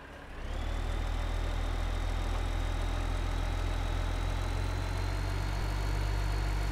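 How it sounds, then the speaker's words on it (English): A tractor engine in Farming Simulator 15 drones steadily while driving down a road towing a trailer, a constant low rumble that starts abruptly and holds unchanged throughout, with no talking. "How often do you see a tractor moving this fast down the road?"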